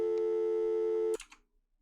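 A steady telephone busy tone sounds in the Shivers 2 video game, one continuous loud beep lasting about a second before cutting off into a faint click and fading noise.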